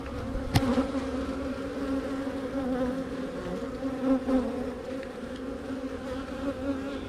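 Honeybees buzz steadily around an open hive colony, a dense, continuous drone close by with a few louder passes of individual bees.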